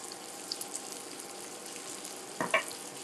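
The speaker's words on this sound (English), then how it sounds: "I'm gonna let this sizzle for y'all" Canadian bacon sizzles in a frying pan for a low-carb breakfast, a steady close crackling hiss with a few sharper pops and a brief clatter of a utensil near the end.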